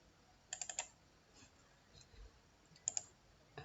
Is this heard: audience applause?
no